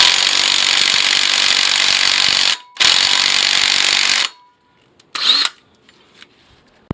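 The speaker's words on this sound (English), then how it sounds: "this flywheel is one of those situations where it's really nice to have a much more powerful impact driver" Impact driver working on the flywheel bolts of a Nissan D21 2.4, close and loud: two long hammering bursts separated by a brief gap, then a short third burst after a pause.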